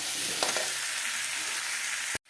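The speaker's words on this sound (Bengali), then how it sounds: "আলু আর ওলকপিটা আমাদের হালকা ভাজা ভাজা হয়েছে" Potato and kohlrabi pieces fry in oil, giving a steady, close hiss of sizzling with a few light stirring knocks, cutting off abruptly at the end.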